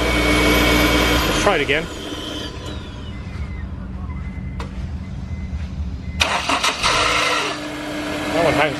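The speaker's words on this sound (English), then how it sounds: "This is the factory starter that came out of it" Factory starter motor from a Honda S2000 engaging with a whirring, grinding crank that hangs up, running in a few bursts under a steady background hum, with people talking over it.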